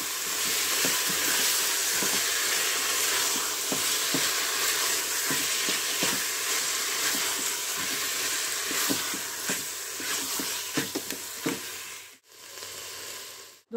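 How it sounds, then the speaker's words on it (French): Beef browning in a Cookeo multicooker, a loud, continuous close sizzle broken by frequent scraping stirs of a utensil, and a brief dip in the frying noise near the end. "Et j'ajoute la viande. Et je fais revenir tout ça."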